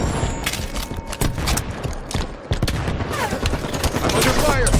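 Dense video game gunfire in Halo 5, rapid overlapping bursts and automatic fire blending into a constant loud barrage, with a voice speaking partway through.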